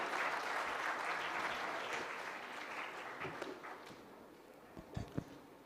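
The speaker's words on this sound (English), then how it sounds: "Please give a loud round of applause to the panel here." Audience applause for a panel at the close of a tech innovation conclave, a sustained burst of clapping that gradually fades, ending in a few scattered claps.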